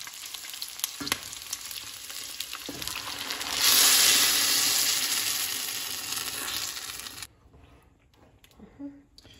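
Salsa poured into hot oil for mole de cecina, frying with a loud, steady sizzle that swells around the fourth second, holds, then drops off sharply near the end to faint kitchen clatter.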